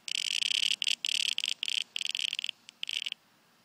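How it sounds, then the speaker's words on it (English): A cicada buzzes loudly and close by in summer heat, a harsh electric-sounding drone broken into several long bursts with short gaps before it stops. "Even a cicada is having trouble in this heat."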